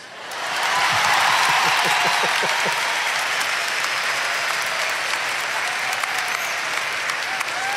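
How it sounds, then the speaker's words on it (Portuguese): Audience applause at a Catholic anniversary event for Obra de Maria swelling quickly into a dense, steady clatter of many hands, with a few rhythmic thumps early on and continuing without talk. "E eu notei que os aplausos foram mais fracos."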